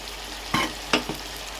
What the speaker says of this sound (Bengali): আর এখন একটু ভালো করে কষিয়ে নিয়ে একটু হলুদ দিয়ে দেবো